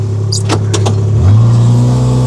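A side-by-side utility vehicle driving in low gear gives a loud, close engine drone that shifts and steps up in pitch partway through, with a few sharp clicks or knocks early on.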